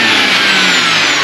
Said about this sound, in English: Now just rev it.